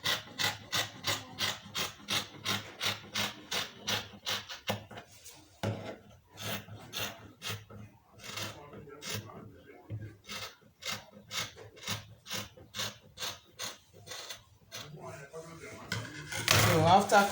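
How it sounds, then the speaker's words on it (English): Skirt fabric being cut out with scissors: a rapid series of crisp, rhythmic snips close by, pausing briefly and then resuming, with some rustling of material near the end. "I will just cut out."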